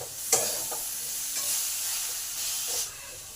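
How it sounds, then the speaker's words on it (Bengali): Chopped tomato being stirred into potato and chana dal in a pan: a sharp initial clink, then a continuous hissing fry with a few scraping stirs, close by and with no talking. "এবার টমেটোটাকে দিয়ে 2 মিনিট নেড়ে নেবো"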